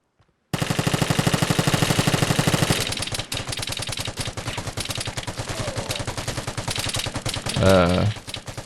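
Video game gunfire erupts suddenly out of silence as a long stream of rapid automatic shots, then continues as dense, uneven bursts with a heavy boom near the end.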